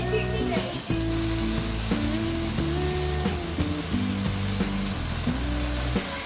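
Chopped fenugreek leaves sizzle steadily in a pan with fried onions, a continuous frying hiss heard beneath prominent background music.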